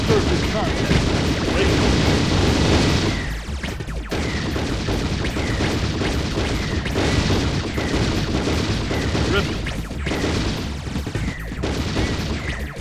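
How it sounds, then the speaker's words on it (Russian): Rapid gunfire in the PlayStation game X2: No Relief crackles continuously under ongoing background noise, with dense bursts of shots and a brief dip in intensity partway through. "Вот, теперь немножко хоть слышно мои выстрелы."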